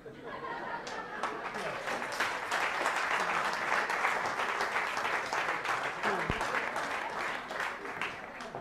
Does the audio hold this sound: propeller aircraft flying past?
no